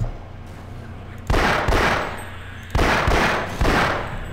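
Loud gunfire in Half-Life: Source comes in three sharp, close bursts, each ringing briefly before the next, with quiet gaps between them.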